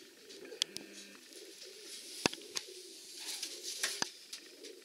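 Soft, low pigeon cooing repeats in a murmuring rhythm, with scattered sharp clicks and taps over a quiet background.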